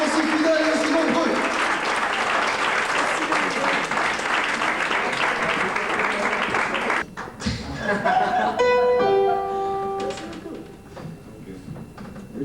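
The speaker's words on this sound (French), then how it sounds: "Merci beaucoup de ces applaudissements toujours sincères et enthousiastes" Audience applause at a live French comedy show, dense and loud for about seven seconds before breaking off, with scattered claps, laughter and voices trailing afterward.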